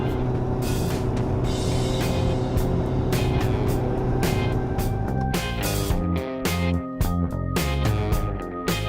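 A small 2-litre car engine labours steadily uphill while climbing out of a valley on a Saskatchewan road trip, a continuous loud drone with road and wind noise throughout.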